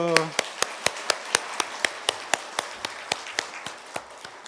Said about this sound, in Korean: 자, 우리 하나님께 영광 돌리며 박수